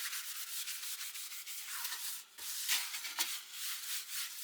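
Wiping and cleaning a plaque surface for a Cricut Christmas craft, a steady hissy rubbing that keeps going in strokes, with a few louder swipes near the end and no voices.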